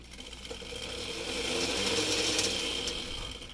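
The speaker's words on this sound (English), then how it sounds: "That sound is it hitting the zip ties" An electric scooter motor on a Razor Pocket Mod converted to 36V 800W makes a rapid mechanical ratcheting clatter, a spinning part repeatedly slapping against plastic zip ties, steady and close for a few seconds.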